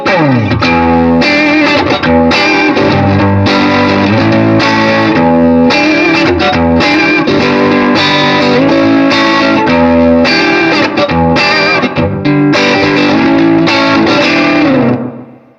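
Heavily distorted electric guitar strums the chords in a steady, driving rhythm, loud and alone before ringing out at the end.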